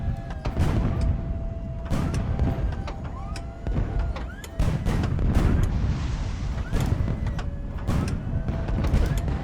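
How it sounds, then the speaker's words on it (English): Heavy booms of cannon fire from the video game Highfleet go off repeatedly at uneven intervals over a rumbling mechanical background, some shots followed by whistling trails. "those really nice smoke plumes that come out of our cannons when we fire."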